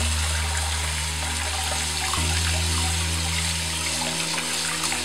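Tap water pours while rice is being washed in a kitchen, a steady splashing trickle close by over a low electrical hum, with no voices.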